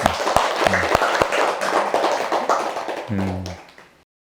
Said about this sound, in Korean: 응원의 박수 한번.